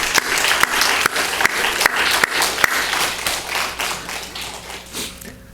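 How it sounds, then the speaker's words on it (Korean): A congregation applauding at a Korean Sunday church service, a steady, fairly loud wash of many hands with a few sharp, distinct claps standing out, tapering slightly toward the end. "큰 박수로 또 함께하기 바랍니다"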